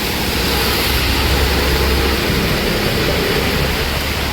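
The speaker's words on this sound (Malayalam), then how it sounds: "നല്ല മഴയാണ്." Heavy rain pours at night around a truck being unloaded under a shed, a constant loud, dense hiss filling the scene without any talk.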